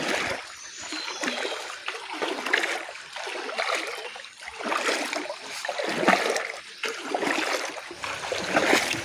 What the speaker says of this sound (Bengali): আমরা ঝর্ণার প্রায় কাছাকাছি চলে এসেছি